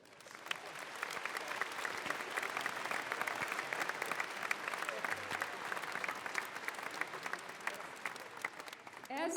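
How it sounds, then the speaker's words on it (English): A large commencement crowd at a university graduation applauds continuously, a dense, even wash of many hands clapping that holds steady and moderately loud for the full duration. "we applaud you"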